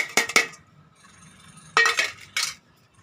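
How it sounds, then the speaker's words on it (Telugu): Red chillies and tamarind chutney are pounded in a mortar, heard as sharp clinking stone strikes: a quick pair, a pause, then two more hard hits with a brief scrape, close and alone. "చింతకాయ పచ్చడి కూడా చక్కగా మెత్తగా దంచుకుందామండి"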